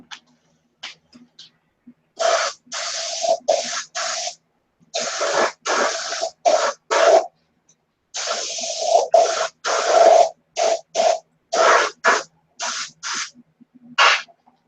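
Bursts of aerosol spray coating are applied, each hiss lasting about half a second to a second in a broken rhythm, loud and close, with brief pauses between them.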